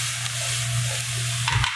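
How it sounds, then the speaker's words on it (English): Diced butternut squash hash tossed in a hot frying pan, a steady close sizzle with a brief clatter of the pan near the end. "to give this a little toss in our pan"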